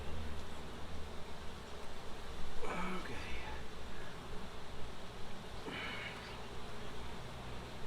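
Honeybees swarm around an open beehive being worked by a beekeeper, giving a steady, moderately loud droning buzz that fills the scene, with a few louder passes of individual bees close by.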